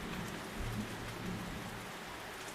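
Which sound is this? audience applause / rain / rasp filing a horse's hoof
rain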